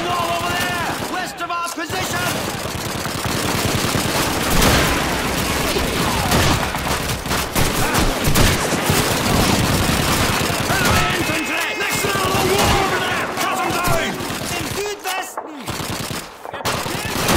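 Dense, sustained machine gun fire rattles almost nonstop in a Call of Duty 2 prisoners-of-war battle, loud bursts overlapping with other gunfire and brief gaps near the end.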